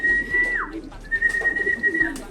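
Pigeons call in a low, soft coo beneath a clear, sustained whistle that holds steady, dips briefly, then returns for a second long stretch, all heard close by.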